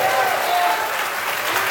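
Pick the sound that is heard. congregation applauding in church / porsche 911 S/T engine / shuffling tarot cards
congregation applauding in church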